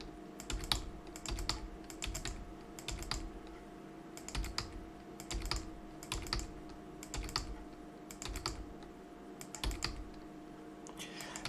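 Rapid bursts of typing on a computer keyboard, quick clusters of key clicks separated by short pauses, steady and close against a low background hum.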